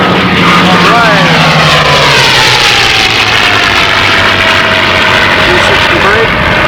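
A P-51 Mustang's piston engine idles loudly and steadily at close range, its low rumble heavy with wind buffeting and outdoor noise throughout.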